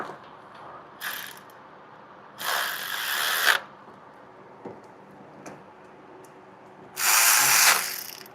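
A ratchet wrench tightens bolts to torque spec in a garage, giving several close bursts of rapid clicking separated by quiet pauses, with one longer run near the end.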